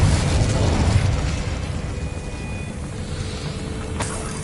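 A Confringo blast spell fired in the Hogwarts Legacy video game, a loud, dense explosive burst at the start that rumbles and fades steadily with a short sharp crack near the end.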